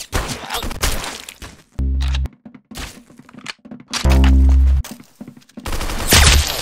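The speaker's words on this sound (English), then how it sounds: "Very good shooting." Gunfire in the Roblox game Arsenal: loud bursts of rapid shots, two long sustained volleys among scattered cracks and thumps, with game sounds in between.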